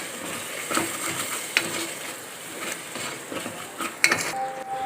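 Scraping and clinking of a spoon stirring spices and yogurt inside a metal pressure cooker pot for egg biryani, with soft sizzling underneath and a few sharper knocks against the rim.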